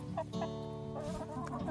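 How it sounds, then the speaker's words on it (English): Chickens cluck softly in quick irregular bursts, close by but quiet, with no one talking. "Happy chickens."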